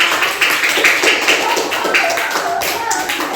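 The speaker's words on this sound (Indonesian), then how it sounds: "Sekali lagi berikan tepuk tangan." Classroom group applause after a student presentation, steady scattered hand claps with voices mixed in throughout.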